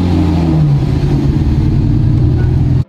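A Lamborghini Murcielago engine under reconstruction revs loudly and steadily up close as first gear engages, a continuous low rumble that cuts off abruptly at the end.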